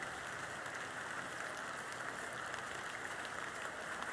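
Steady rain falls in the video game Excavation of Hob's Barrow, a constant even hiss with light patter holding at one level throughout, with no voices.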